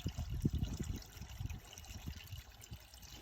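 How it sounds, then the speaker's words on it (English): Water pours into the cooling system of a cheap Ford Ranger 4x4 pickup truck, a soft irregular trickle and gurgle with small splashy bursts, fairly faint and close. "So we're doing a first fill with water and non-diluted coolant."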